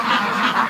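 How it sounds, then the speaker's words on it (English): Stressed free-range ducks quack loudly and close in a quick burst of several overlapping calls, with no talking. "But these are stressed out ducks right now."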